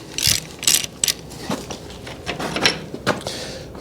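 Ratchet wrench clicking as it works big, long-stuck bolts loose on a tractor wheel, in several short bursts of sharp clicks close by with pauses between them.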